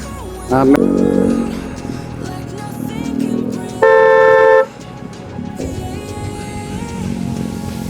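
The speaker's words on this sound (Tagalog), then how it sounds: "Grabe yung traffic dito." Congested afternoon traffic on a city road in the Libis area heading toward Marikina, Philippines, with a loud sustained car horn blast in the middle amid a steady engine rumble, and a person speaking over it.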